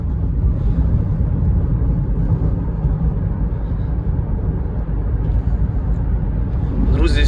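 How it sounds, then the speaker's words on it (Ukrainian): A 2010 Honda CR-V 2.2 diesel automatic 4x4 driving on the road makes a steady low engine drone and tyre rumble heard from inside, constant and moderately loud, while someone talks over it. "Автомобіль їде бодро, ніяких толчків, пинків, нічого немає."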